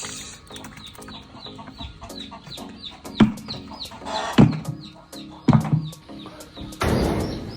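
Caged chickens cluck busily while being fed, with quick repeated calls and scattered louder squawks close by, rattling and scuffling around them, and a rustling burst near the end.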